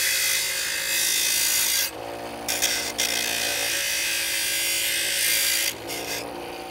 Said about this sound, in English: We do this on a regular aluminum oxide grinder wheel